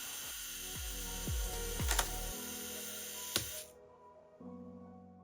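A 1961 Canon 7 rangefinder camera's self-timer whirs with a steady mechanical buzz for about three and a half seconds with a few clicks and knocks, then stops abruptly, followed by quieter handling noise.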